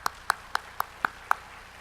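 Six crisp, evenly spaced claps of thanks after a pastor's sermon ring out in a quick steady rhythm, close and clear against a quiet room.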